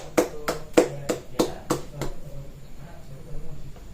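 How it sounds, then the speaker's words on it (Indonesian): A few sharp, evenly spaced hand claps ring out in a classroom for a student group, about six in quick succession. They then stop, leaving faint room noise. "kita berikan tepuk tangan untuk kelompok Ahmad"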